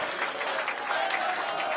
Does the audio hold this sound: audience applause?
yes